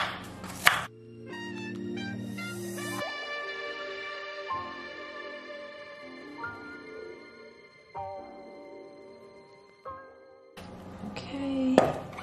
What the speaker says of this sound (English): while I chop this onion up